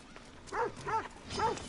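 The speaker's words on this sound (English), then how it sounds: "Yo, don't attack me, doggies." Dogs in the video game Assassin's Creed Odyssey give three short, fairly close barks in quick succession over a quiet game background.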